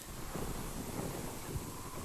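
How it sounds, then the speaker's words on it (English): Steady winter wind in Iowa's Loess Hills buffets a microphone, a low rumbling roar with gusty bursts, loud and continuous with no voices. "that wind was really kicking my butt"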